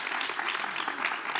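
Dense, steady applause from a debate audience fills the whole stretch, a broad wash of many hands clapping at once without pause.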